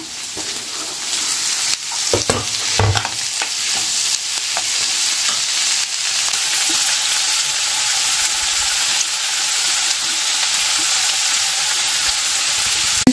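Tomatoes with mint, coriander and curry leaves sauté in a pan, a close continuous sizzle broken by several clattering stirs early on, then a steady hiss with no talk.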